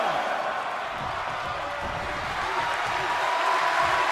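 Arena crowd in WWE 2K22 wrestling game roars as a broad continuous cheering wash with applause, steady and loud throughout the short stretch.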